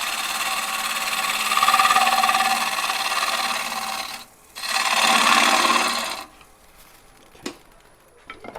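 A woodturning gouge cuts wood on a lathe: two close, sustained scraping, hissing passes with a short pause between them, then quieter machine hum and a few faint knocks, with no talking.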